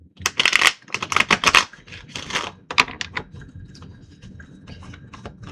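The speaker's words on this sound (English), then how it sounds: "One more shuffle." A tarot card deck is shuffled in several quick riffling bursts, crisp close-up flutters that fade into softer card handling and a quiet tail.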